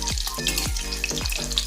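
Garlic chicken frying in a pan, a steady loud sizzle with periodic scraping strokes of a spatula every half second or so, close up with no voices.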